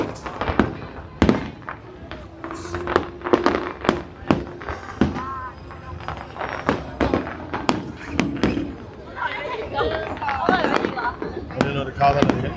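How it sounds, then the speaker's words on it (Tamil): New Year fireworks burst over Pattaya in dense, rapid succession, with loud sharp cracks and booms overlapping one another, while a crowd murmurs and a voice can be heard underneath. "விண்ணை முட்டும் வெடிக்காட்சிகள் எல்லாம் இரவை பகலாக்கக்கூடிய காட்சிகளாக நம்ம பார்த்து கொண்டிருக்கிறோம்"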